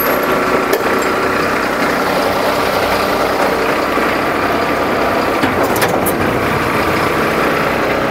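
A heavy truck's diesel engine runs steadily and loud at close range while the hook-lift raises a container, with a constant low rumble and brief mechanical clanks near the end.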